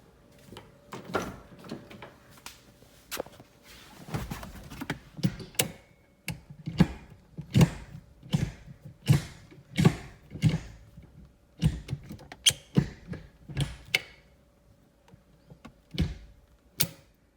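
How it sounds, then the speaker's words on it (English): Coolerworx short shifter in a Genesis Coupe being moved through its play, a series of separate clunks and clicks at uneven intervals in a quiet cabin, close and fairly soft. "So this last part's going to be showing you the play of the shifter."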